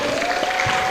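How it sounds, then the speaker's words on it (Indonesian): Audience applause at a live children's pantomime competition finals, a dense burst of many hands clapping together, loud and close, lasting about a second. "Tepuk tangannya mana Bapak Ibu?"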